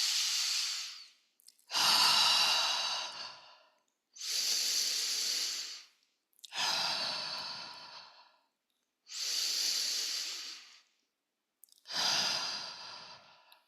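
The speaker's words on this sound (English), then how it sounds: "Okay, that was 3 breaths." Three slow, deep breaths are taken up close. Each one is a long hissing inhale followed by an equally long exhale, making six airy bursts with short silent gaps between them.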